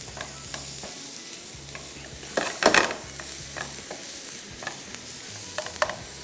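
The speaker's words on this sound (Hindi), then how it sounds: "प्याज को थोड़ा सा किया फ्राई" Onions fry in a pan with a soft, constant sizzle, broken by several sharp scraping and stirring strokes, one louder clatter in the middle, and no voices.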